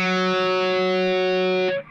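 A single distorted electric guitar note rings out loud and sustained for under two seconds, then is cut short, with no voices.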